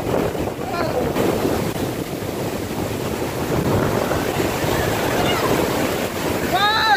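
Ocean surf roars and crashes steadily along the shore, mixed with buffeting wind noise on the microphone, and shouting voices and laughter break in above the waves.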